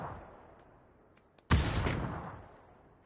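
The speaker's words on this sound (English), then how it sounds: "Shots already going out." Gunfire rings out in the battle royale video game PUBG over faint background ambience. A loud, sharp burst hits midway and decays into a long, rumbling echo.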